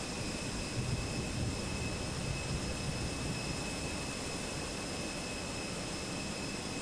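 Steady, even jet-like whine and rumble from an airliner's auxiliary power unit on a Fenix A319 in Microsoft Flight Simulator 2024, running constantly with no change, with thin high tones over a broad noisy roar.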